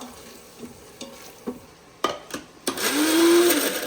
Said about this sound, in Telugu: tomato, ginger garlic paste, onions, garam masala వేసాం కదా, ఎంత చక్కగా ఫ్రై అయిపోతుందో